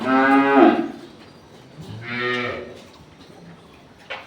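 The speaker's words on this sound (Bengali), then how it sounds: "ওনার খামারের গরু এগুলো" Dairy cows on a farm mooing, with two long, loud moos close by and a fainter brief call near the end, with no talking.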